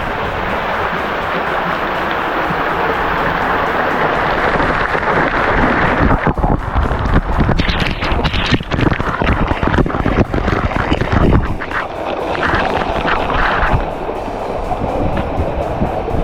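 Strong winter wind in Iceland roars continuously across the microphone, loud and gusty, with a waterfall rushing in the background and no speech.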